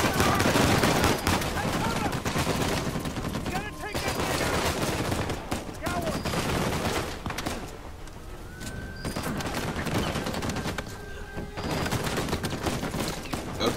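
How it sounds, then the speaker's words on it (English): Turret machine-gun fire in Uncharted 4: A Thief's End, dense loud bursts of rapid shots with short gaps, mixed with other gunfire and a voice speaking over the battle. "Gotta take out the turret because that's what's giving us the most problems right now"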